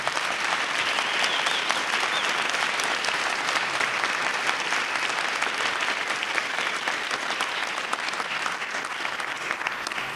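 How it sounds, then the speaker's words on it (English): A debate audience applauds both debaters, dense sustained clapping from a full room that stays even and loud for about ten seconds, with a faint voice briefly mixed in. "we give a round of applause for both of them now"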